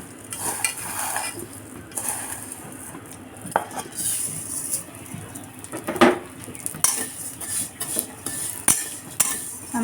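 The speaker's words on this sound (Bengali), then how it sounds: "ঘিয়ে এখন আমাদের সেমাইগুলোকে বোধহয় ভাজা হবে।" Crushed vermicelli fries in hot ghee in a pan, with a steady light sizzle broken by scraping stirs and metallic clinks of a utensil against the pan.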